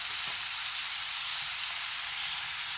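Meat bones sizzle in a pot for chili con carne, giving off a constant, even, hissing fry at moderate volume, close up and alone without speech.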